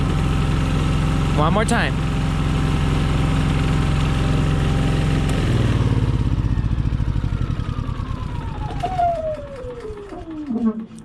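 A Yamaha EF4500iSE inverter generator, previously failing to start, runs with a steady loud close engine drone, a brief voice partway through, then the engine winds down with a falling whine before picking back up at the end.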